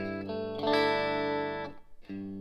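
Electric guitar notes played through a Line 6 HX Stomp with a short, mellow, low-mix reverb, a few sustained chords ringing out briefly with a soft tail between them.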